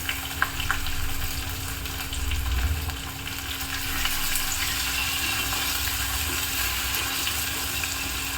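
Steady frying sizzle of sliced onions sautéing in a pan, continuous crackling and hissing throughout with occasional stirring, no talk.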